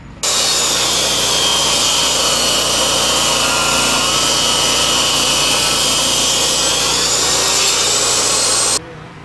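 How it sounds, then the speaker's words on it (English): A table saw cuts wooden blocks at an angle for a hunting cabin build, a loud, steady whining roar that starts abruptly and holds constant for about nine seconds before cutting off. "marked where they're going to cut them with the table saw at an angle"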